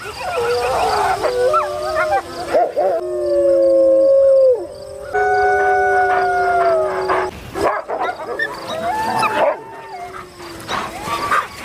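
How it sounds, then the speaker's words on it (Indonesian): Captive wolves in a pack howl together: several long, wavering overlapping howls rise and fall close by, broken by short gaps, with a few yips and whimpers mixed in. "Setibanya di penangkaran, Mozart disambut ibunya dan diperkenalkan ke kawanan serigala lain."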